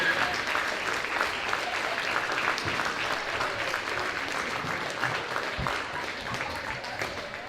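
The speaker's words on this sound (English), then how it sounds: "Let's give them one more big round of applause" A gym crowd at a varsity basketball game gives the senior class sustained, even applause. The dense clapping lasts the whole stretch at steady volume before easing slightly at the end.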